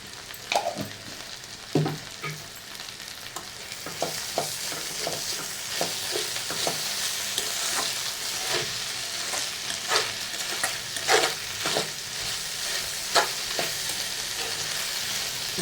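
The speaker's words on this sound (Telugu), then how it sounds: "కూర బాగా వేగిన తర్వాత వెల్లుల్లి పేస్ట్ వెల్లుల్లి పేస్ట్ వేసుకొని బాగా కలుపుతాను" Brinjal curry fries with garlic paste in a pan, giving a constant soft sizzle broken by repeated sharp scrapes and taps of a spoon as it is stirred, with no speech.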